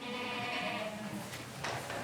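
Goats on a farm housing 150 animals bleat in a wavering, drawn-out call that rises over a steady, noisy barn background with the sound of other animals stirring.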